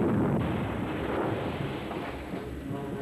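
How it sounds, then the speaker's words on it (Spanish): Warning-shot cannon fire from a film scene on a river boat near Niagara Falls: a heavy, rumbling blast followed by a long, rolling roar that slowly fades, with no voices over it. "¡Disparo de advertencia!"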